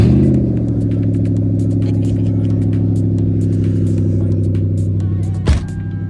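Lexus 4.3 litre V8 with no exhaust fitted idling loudly and steadily in an uneven, lumpy rumble, then one quick sharp blip of the throttle near the end before settling back to idle.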